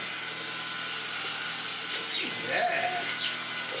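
Eleckeys K30 cordless vacuum cleaner running steadily on its lowest setting, a constant motor whine with a slight rise in pitch near the end, heard alone.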